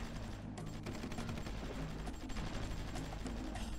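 Gunfire in the strategy game Supreme Ruler Ultimate: a dense, unbroken barrage of battle noise holds steady at high level for the whole stretch, with no voices.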